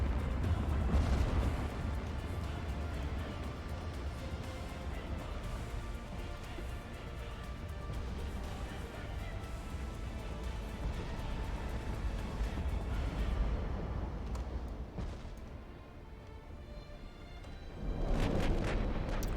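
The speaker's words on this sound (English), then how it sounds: "I think I'm not firing both turrets." Naval turret guns boom in the warship game Ultimate Admiral: Dreadnoughts, with deep, heavy rumbling that continues almost without break, swelling at the start and again near the end.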